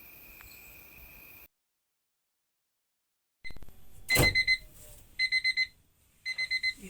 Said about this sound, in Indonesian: terbangun karena alarm di handphonenya